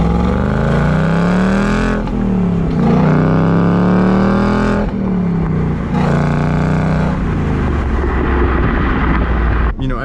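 A Ford Mustang GT with active exhaust pulls at wide open throttle: a loud, close engine roar that climbs in pitch through several rising sweeps and shifts, with the exhaust note opening up as revs build.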